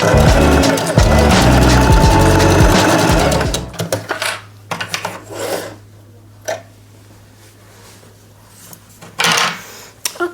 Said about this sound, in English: I'm positioning the fabrics under the presser foot, and I'm using a 1 centimeter seam allowance now.